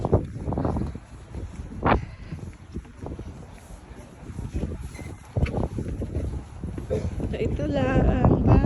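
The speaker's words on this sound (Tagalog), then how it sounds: "Mahangin ngayon." Cold wind gusts in Skagway, Alaska, roaring against the microphone in uneven bursts, loud and close, with a person speaking intermittently over it.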